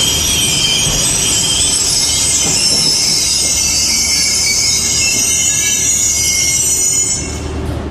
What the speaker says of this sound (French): C'est sur la première voie que Dijon accueille le Talgo pendulaire Paris-Barcelone.